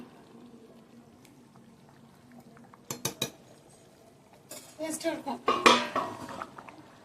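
A metal lid clanks back onto a pot of mutton biryani, with a couple of sharp clatters followed by a busier burst of rattling metal over a faint simmer.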